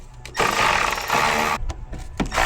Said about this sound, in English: right now I am unscrewing the radiator shroud